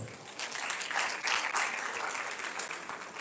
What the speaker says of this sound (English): I think you should clap for yourself.